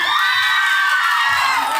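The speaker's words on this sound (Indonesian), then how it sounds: "Beri tepuk tangan yang meriah" Loud cheering and shouting from an audience, many children among them, at a religious speech competition, a sustained chorus of voices with no clear clapping.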